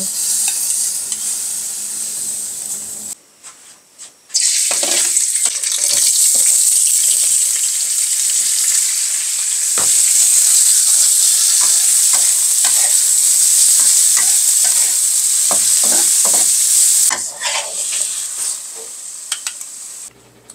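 Soup with blood rice cooking in a pot, a long steady sizzling hiss with scattered stirring scrapes and clinks, loud and close, broken by brief quieter gaps and no talking.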